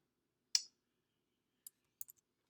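Sparse, soft clicks of computer keys, a sharp tap followed by a few lighter ones after pauses, heard close in an otherwise quiet room.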